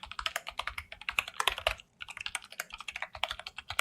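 AI-generated keyboard typing effect, a quick irregular patter of crisp keystrokes, close and clear, with a short pause midway before the tapping resumes.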